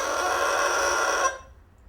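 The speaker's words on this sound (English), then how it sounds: "Bassoon has a reed, and it sounds like this." A bassoon reed played alone gives a loud, buzzy squawk held steadily for over a second, then cut off abruptly, leaving near silence.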